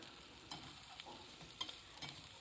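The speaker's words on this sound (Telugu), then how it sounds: "అన్నాన్ని ఫ్రై చేసుకుంటున్నాం కదా." Cooked rice with paneer pieces being stir-fried on high flame, giving a steady low sizzle with scraping stirs at irregular moments, fairly quiet and close, with no talking.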